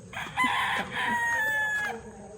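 A rooster crows nearby, a loud, drawn-out call lasting a couple of seconds, with faint clucking underneath.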